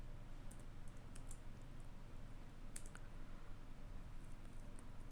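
Someone types code on a computer keyboard, soft key clicks falling in quick irregular clusters over a low steady background hum, with nobody speaking.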